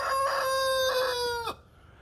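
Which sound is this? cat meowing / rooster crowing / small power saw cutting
rooster crowing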